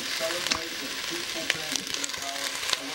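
Chopped organic garlic sizzles in a pan for soup, a steady close hiss of frying broken by small pops and the light scrape of stirring.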